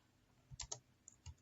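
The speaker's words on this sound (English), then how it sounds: "We are typing name Sam" Typing on a computer keyboard: a few quick, faint keystrokes in a short burst, then a brief pause and one or two more taps, close and quiet with no voices.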